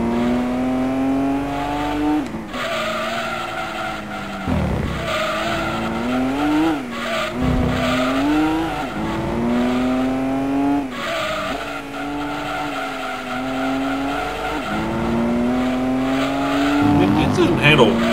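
A 1960s car in Gran Turismo 2 races hard, its engine revving up and dropping through repeated gear changes while tyres squeal in the corners. A player talks over it throughout.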